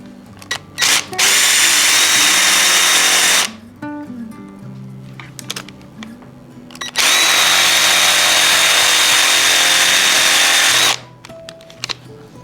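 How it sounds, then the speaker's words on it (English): A power drill bores into a part of a 1984 Trek 330 road bike in two loud sustained bursts of several seconds each, with quieter clicks and workshop handling between them. "I suppose we drill it"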